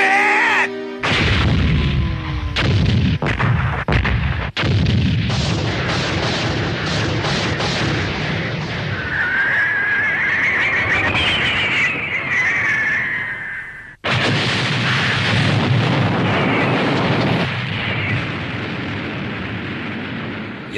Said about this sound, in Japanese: まさか砲撃の着弾って。